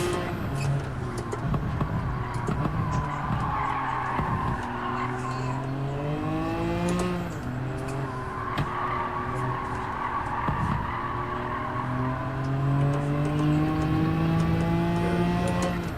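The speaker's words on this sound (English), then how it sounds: "this car feels really fun to drive" Race car engine in Gran Turismo 7 racing game, steady revving with rising and falling pitch through gear changes and occasional tire skids, continuous and loud throughout.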